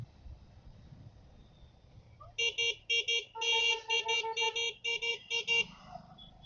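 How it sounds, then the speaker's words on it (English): Vehicle horns honk repeatedly in Indian traffic, a rapid series of short and sustained car and motorcycle toots, fairly close and loud over a low road rumble. "See, the magic of honking."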